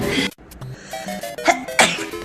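A woman sneezes loudly and sharply amid bursts of excited voices and laughter, the sneeze standing out as a sudden explosive puff near the microphone.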